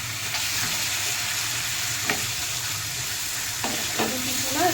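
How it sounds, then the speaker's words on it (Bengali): Chicken stirred in hot butter with a spatula, a steady close sizzle of frying broken by a few scraping knocks of the spatula against the pan. "খুন্তি দিয়ে নাড়িয়ে দেয়।"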